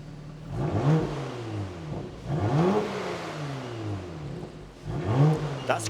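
Porsche Macan GTS 2.9 engine with its sports exhaust flaps open, revved three times in quick blips that rise and fall, close and fairly loud.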